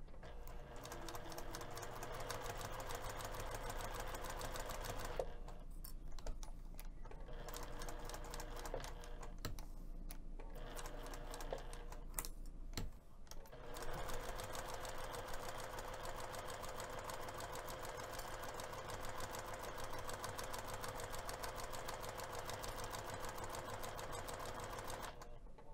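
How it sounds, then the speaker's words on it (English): A sewing machine runs a long basting stitch around the perimeter of a fabric piece at 1/8 inch seam allowance, humming steadily and loudly with two brief pauses early on, no talking. "So I'm gonna take this over to the sewing machine."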